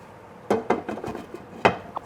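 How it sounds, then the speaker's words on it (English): A lid clatters onto a pan of pasta with broccoli and sausage, giving a few sharp metallic knocks and rattles close by as it settles, followed by a last light tap. "And lid comes on, and we're going to let that steam a little bit."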